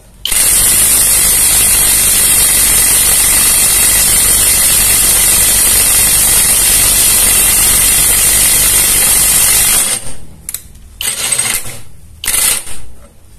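A modified M65 impact wrench runs at 1000 Nm, a loud continuous high-pitched rattling hammer for about ten seconds, then stops and gives a few short bursts.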